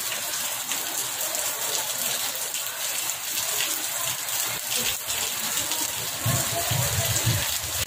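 Steady rain falls outdoors on a seaside road during a walking rally in West Sumatra, a dense continuous hiss with low rumbling underneath and brief murmurs of crowd activity.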